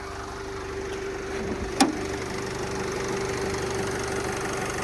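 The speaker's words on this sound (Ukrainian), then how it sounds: "От робота мотора." A 2014 Opel Vivaro van's 2.0-litre, 115 hp diesel engine idles steadily at a low, even level throughout, with a brief sharp knock midway through.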